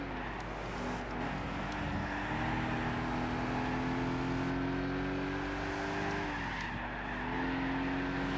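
Racing cars in Gran Turismo 6 in a 400pp Clubman Cup race behind NSXs, a loud continuous engine drone with shifting pitch as the car revs and changes gear, tires faintly scrubbing, no voices.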